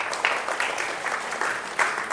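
Students at a one-day student camp clap for a ninth-grade girl volunteer, with a steady, fairly close round of applause and a faint voice underneath.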